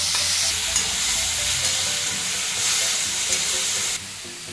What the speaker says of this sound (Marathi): वरतून ना थोडंसं तेल सोडायचं, म्हणजे लवकर हे होतं, टोमॅटो फ्राय लवकर होतात